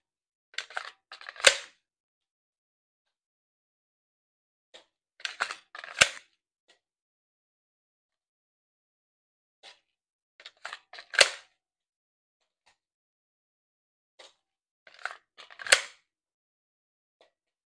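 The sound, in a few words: pistol tactical reload during dry fire practice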